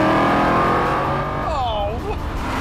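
Aston Martin V8 Vantage with its 4.3-litre, 380 horsepower V8 engine, a steady loud engine drone with a brief rising and falling sweep midway, close by throughout, with voices partly mixed in.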